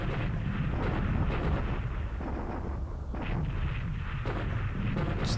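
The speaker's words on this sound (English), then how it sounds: "Torpedo hits that are going to bring these battleships down." Torpedo hits on battleships in the War in the Pacific game, December 1941 fleet battle, make a dense, continuous rumble of heavy explosions that rolls on for several seconds without a pause.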